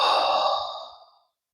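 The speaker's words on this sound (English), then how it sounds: "Inhale. And exhale." A single slow, deep exhale during a yoga session, a soft breathy rush that starts full and fades out to silence after about a second.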